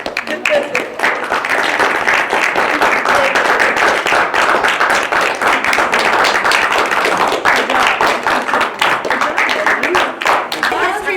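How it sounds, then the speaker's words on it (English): A final round of applause for musicians at a school history book club event honouring Shostakovich, loud steady clapping that runs for about eleven seconds with voices faintly under it. "Final round of applause."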